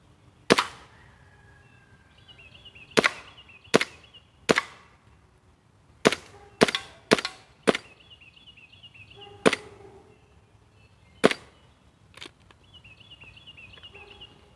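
An airsoft 1911 pistol with a shoulder stock fires about a dozen sharp blowback shots, each crack with a quick slide clack, spaced irregularly in singles and quick pairs, close and loud with no speech.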